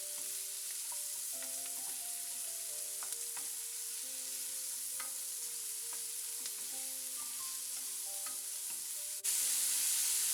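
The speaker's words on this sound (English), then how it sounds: "Oil is hot now, so we have added onion and capsicum in this and saute it for a few minutes." Onion and capsicum sauté in hot oil with a steady, even sizzle and faint stirring, soft background music underneath, and the frying swells louder near the end.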